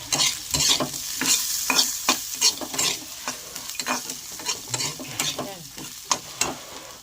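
Prawn heads with salt and turmeric sizzle in a hot pan while a utensil stirs and scrapes them in quick, uneven strokes, close and loud.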